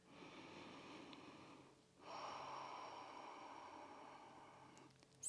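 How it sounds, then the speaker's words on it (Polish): One deep breath during a yoga session: a slow inhale, a brief pause, then a long, airy exhale. It is quiet, close and alone, ending with a short sniff. "Głęboki wdech i wydech."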